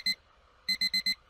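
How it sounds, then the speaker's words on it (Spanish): A digital alarm clock beeps, one short electronic beep followed after a pause by a quick run of four identical beeps, loud and close with nothing else around it. "¡Pinche alarma!"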